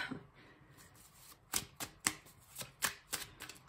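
Tarot cards are shuffled by hand in a quick run of crisp, papery slaps and riffles, the sharp taps coming close together and at an uneven rhythm.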